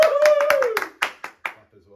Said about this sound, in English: Clap as well.